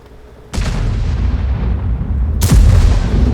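Two heavy tank cannon shots in World of Tanks, tank destroyer battle, each a sudden loud boom with a long rumbling decay, the second about two seconds after the first.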